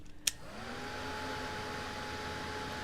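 Hair dryer blowing over a fresh watercolour crocus painting, a single click as it switches on, then a steady, close, even whoosh with a faint motor whine that continues unbroken.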